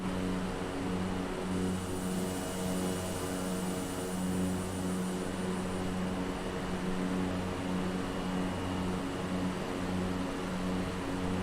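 Propeller airplane engine droning steadily during the climb after takeoff, power and RPM pulled back, heard from inside the cabin as a continuous loud hum with strong low tonal harmonics and no talk.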